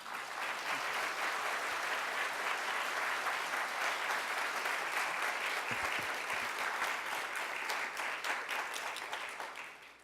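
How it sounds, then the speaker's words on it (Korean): Sustained audience applause in a church welcoming a pastor to the pulpit, dense steady clapping from a large crowd filling the whole stretch and tapering slightly at the end. "뜨겁게 박수로 맞으시겠습니다."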